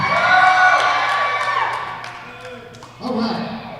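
A live crowd at a hip-hop event screams, whoops and cheers in a loud, sustained burst that fades briefly, then surges again near the end.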